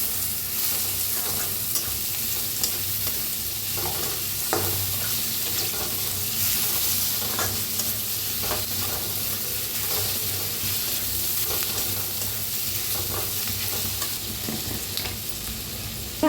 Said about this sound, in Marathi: त्यातच टाकूया टमाटर, त्याला भाजून घेऊया।